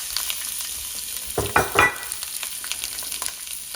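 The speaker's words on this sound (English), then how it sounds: "shrimp can cook quickly, so we're just going to start this in the olive oil" Shrimp sizzling in a tablespoon of olive oil in a medium-hot pan, a close, continuous crackling fry that briefly swells louder as the shrimp hit the oil and settle, with no voices.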